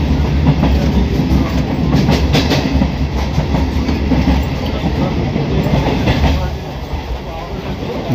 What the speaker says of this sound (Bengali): ট্রেন যখন সোনারপুর 1 নম্বর প্ল্যাটফর্মে ঢুকছে